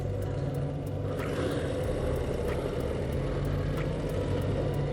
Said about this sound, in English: Kind of enhances the sound of this thing even when you're sitting here idling.